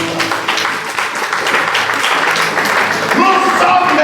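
Church congregation cheering and applauding for Jesus, a loud continuous wash of clapping and shouts with a voice speaking over it throughout.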